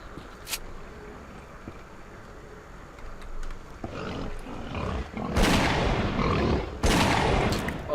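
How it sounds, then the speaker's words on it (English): Shotgun blasts from the game S.T.A.L.K.E.R. Clear Sky boom loudly, two big bursts near the end after a quieter stretch with a sharp crack near the start, over a rumbling game ambience. "the sound of that shotgun is so much better in this one"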